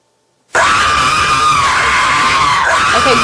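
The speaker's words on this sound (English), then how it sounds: "So normally this makes a really loud screaming noise" A loud, sustained electronic screaming noise from a training app bursts on abruptly after a brief silence and holds steady to the end.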